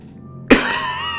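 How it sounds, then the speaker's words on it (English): A single harsh cough erupts from a character in Amnesia: A Machine for Pigs, sudden and close after near silence, trailing into a low rasp. "I hate this cough."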